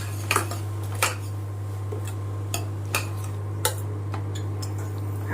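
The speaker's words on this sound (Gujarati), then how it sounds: "હવે એને મિક્સ કરી લઈએ" A spoon stirs turmeric, chili and coriander powder into oil in a cooking pot, giving a few sharp metallic clinks and scrapes at uneven intervals over a steady low hum.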